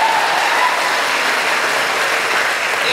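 Steady applause from a school orientation audience of high school students, a dense even wash of clapping that fills the whole clip with no talk over it.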